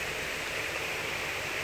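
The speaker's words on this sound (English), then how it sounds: "The waterfalls and fountains are just beautiful" Steady broadband rush of waterfalls and fountains on a relaxing sunny day, a constant even wash of falling water with no other sounds.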